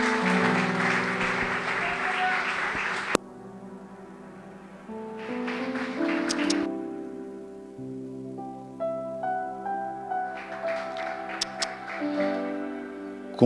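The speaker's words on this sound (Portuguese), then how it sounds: "Aplauda ao Senhor mais uma vez." Bursts of applause from a church congregation come and go over sustained organ-like music, with sharp clicks and quieter stretches between.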